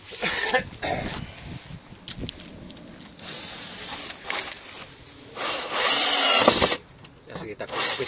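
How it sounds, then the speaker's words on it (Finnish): A cordless power drill bores holes into the rear bumper of a Fiat Fiorino during a parking sensor installation, whining in several bursts of varying length, with a long sustained run near the end and someone speaking between them. "joten alamme poraamaan"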